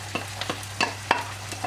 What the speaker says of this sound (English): A wooden spoon because we're using a non-stick pan, and we've got our sliced onion that we're just going to saute